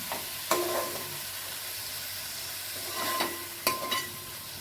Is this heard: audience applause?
no